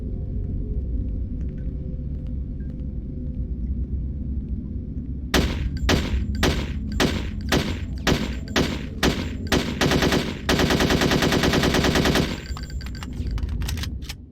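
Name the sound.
gunfire from weapons in the video game Hitman: Codename 47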